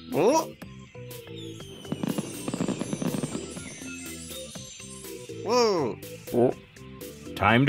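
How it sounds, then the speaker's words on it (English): Crackling, popping fireworks burst in the background while animated voices talk and exclaim over music. "Look, Carl. Fireworks."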